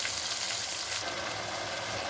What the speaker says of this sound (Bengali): এখন এটাকে একটু কষতে দেবো, যেন টমেটোর গন্ধটা চলে যাবে